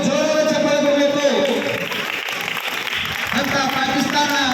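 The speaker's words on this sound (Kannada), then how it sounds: "ನಿಜವಾಗ್ಲೂ ಅವರಿಗೊಂದು ಜೋರಾದ ಚಪ್ಪಾಳೆ ಕೊಡಬೇಕು" An audience breaks into loud, sustained applause for girls' achievements at a school event, dense clapping filling the whole stretch with a few voices calling out over it.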